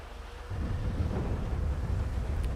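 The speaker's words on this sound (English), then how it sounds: "And let's go to the thunder, because that's what really makes the grounds wet." Rolling thunder from the in-game weather in GTA V, a low, heavy rumble that builds and sustains at a fairly close, loud level without any talk.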